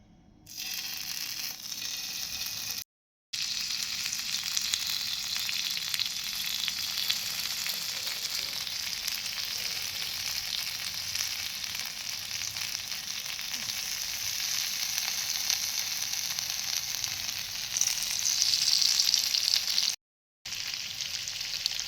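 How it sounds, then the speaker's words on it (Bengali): Chicken satay fries in hot oil on a griddle with a steady, close sizzle and crackle that runs throughout, broken by a couple of brief silent gaps. "তেল গরম হয়ে গেছে এবার আমি স্যাটেকগুলোকে ভেজে নেবো"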